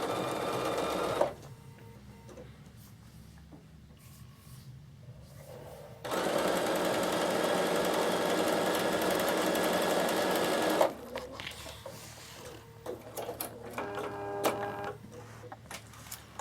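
Bernina sewing machine stitching along fabric piping: bursts of rapid, even mechanical whirring, one long run in the middle and shorter ones at the start and end, separated by quiet pauses.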